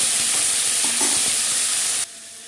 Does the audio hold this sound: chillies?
yes